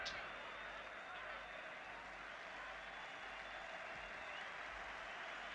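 A football crowd at Belfast, during Northern Ireland versus England, gives farewell applause to Brian Hamilton. The clapping forms a steady, distant wash of hands that runs the whole time beneath a commentator's voice.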